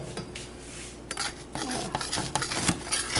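Spatula scraping around a keto bread loaf in its metal baking pan, a series of close scraping and light clinking sounds that grow busier toward the end.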